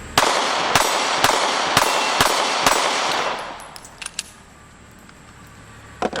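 A Diamondback DB9 pistol fires Remington ammunition in six sharp, evenly spaced shots close by. The shots ring out over a loud wash of sound that fades away, followed by a few faint clinks and a quiet tail.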